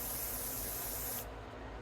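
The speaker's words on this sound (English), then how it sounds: "give that a good spray" Setting spray hisses from a can in one continuous, close burst of bright spray lasting over a second, then cuts off abruptly into quiet room tone.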